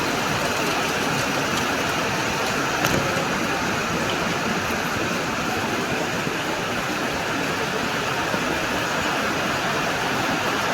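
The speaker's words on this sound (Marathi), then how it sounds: "किती जोरात आला पाऊस" Heavy rain roars in a dense, unbroken hiss, loud and steady throughout, with no voices heard.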